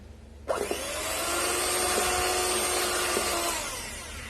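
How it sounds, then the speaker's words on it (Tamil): An electric beater whipping meringue with powdered sugar, starting with a click and rising into a steady, loud whirring motor drone that holds evenly for about three seconds before tapering off. "சர்க்கரை பொடி மறுபடியும் பீட் பண்ணிக்கோங்க"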